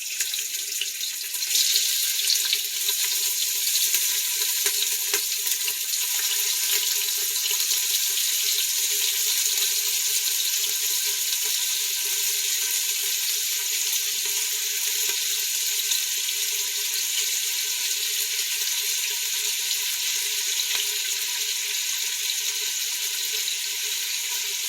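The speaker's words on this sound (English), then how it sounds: "I'm going to go ahead and rinse my hands off right quick." Tap water runs steadily into a kitchen sink while hands are rinsed after handling raw ground beef, a constant close hiss with faint splashing changes throughout.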